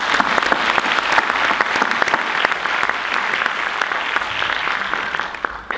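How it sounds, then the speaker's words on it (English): An audience at the opening ceremony of the FIATA World Congress 2019 applauds steadily, a dense, even patter of many hands clapping continuously and fairly loudly throughout. "applause for all the hard work."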